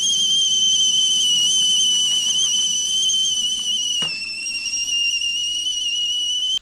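A shrill, steady kettle whistle screams on one sustained, piercing pitch, loud and close, cutting off abruptly at the end.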